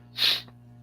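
A single sharp nasal sniff or snort, close and fairly loud, over a low steady electrical hum.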